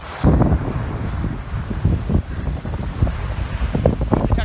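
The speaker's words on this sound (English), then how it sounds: "It's so windy you probably can't hear me." Strong beach wind buffets the microphone in steady, roaring gusts, with faint waves behind.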